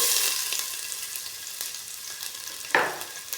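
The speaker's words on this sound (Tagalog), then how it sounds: "Gigisa ko muna bago ko sabawan mga idol." Ginger slices sautéing in a hot pan for a chicken soup with Chinese cabbage, a steady close sizzle with a brief louder crackle burst near the end and no voices.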